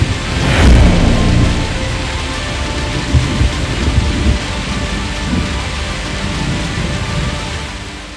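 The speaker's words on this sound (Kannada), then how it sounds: "ಈಗಾಗಲೇ ನಗರದ ಹಲವು ಭಾಗಗಳಲ್ಲಿ ಮಳೆ ಕೂಡ ಪ್ರಾರಂಭ ಆಗಿದೆ." Heavy rain pouring over Bengaluru with thunder: a loud rumbling thunderclap near the start, then a steady dense hiss of rainfall on surfaces with a few further low rumbles, no voices.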